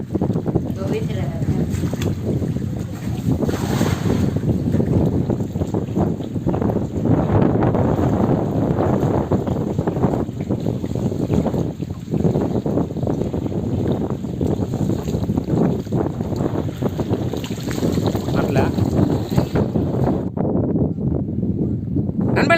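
Strong wind gusts roar steadily against the microphone beside a river while a net is cast from a small boat in a village, with people talking over the noise throughout.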